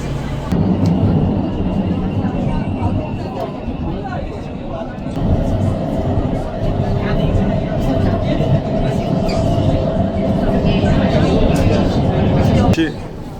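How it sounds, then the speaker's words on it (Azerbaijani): A Shenzhen metro train rolls along with a loud, steady rumble and a sustained electric whine. A voice speaks over the running noise, and a sharp drop comes near the end. "Metromuz gəldi, biz daxil olduq metroya"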